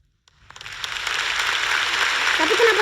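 Applause from a crowd swells up after a brief silence and builds into steady, dense clapping that holds to the end.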